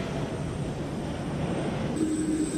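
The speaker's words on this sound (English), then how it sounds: "As the plane parked in the tarmac apron" A plane carrying a BNT vaccine delivery parks on an airport tarmac apron, its engines making a loud, continuous rumble and roar, with a high whine entering near the end.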